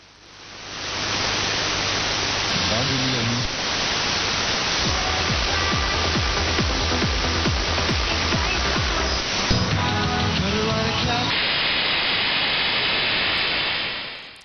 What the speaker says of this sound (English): This is a probably digital modem, something like ODFM.